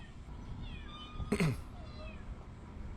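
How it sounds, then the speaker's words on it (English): A cat gives a single clear meow midway through, fairly close, over a quiet background hum. "I hear you, kitty."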